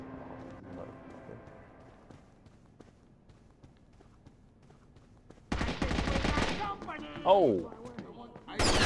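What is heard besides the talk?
gunfire in a video game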